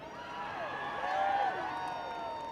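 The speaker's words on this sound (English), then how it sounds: "Y'all clap for that." A crowd at the 2018 Women's March rally in Chicago cheers and claps, with rising whoops and shouts peaking midway over a steady wash of applause.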